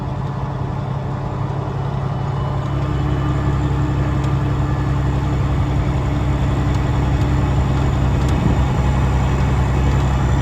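A tractor drives an alfalfa hay merger at about 1400 RPM, its engine a steady, loud, low drone with a continuous mechanical hum throughout.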